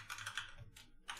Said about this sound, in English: I know that I do a lot of typing.